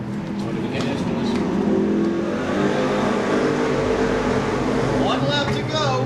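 Stock cars roar around the oval at Seekonk Speedway on a hot evening, a dense, sustained engine drone with rising revs as cars come down the backstretch into a turn, heard under an announcer's continuous commentary.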